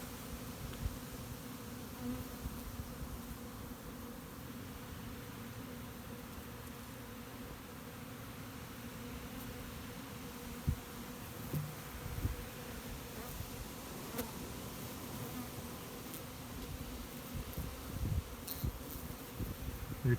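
Honeybees buzz steadily in a shed in fall, a dense, continuous drone of many insects close by, with occasional louder passes of individual bees.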